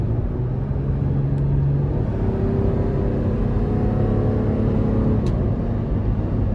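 A 2017 Toyota 4Runner Limited SUV with a higher-displacement V6 pulls hard under acceleration, a steady loud engine drone and road rumble heard from inside the cabin, rising in pitch with no voices.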